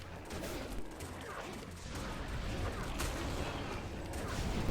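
Dense, continuous gunfire in the online shooter Titan Siege, a steady roar of rapid shots that builds slightly louder toward the end, with no clear pauses.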